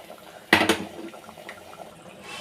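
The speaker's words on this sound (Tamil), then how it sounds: "இப்போ இந்த வதக்கினதை நம்ம குழம்புல ஊற்றிக்கலாம்" A sautéed mixture is tipped from a pan into simmering mutton pepper paya gravy, landing in a short, loud wet splash followed by faint liquid bubbling and small clinks, with no talking.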